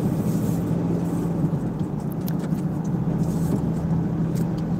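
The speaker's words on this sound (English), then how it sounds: "It's not a tuk-tuk, it's a samlor, fully loaded with people." Samlor motor cart fully loaded with people running along Cambodia National Highway 6, a steady low engine drone with road rumble, continuous and close, with no voices.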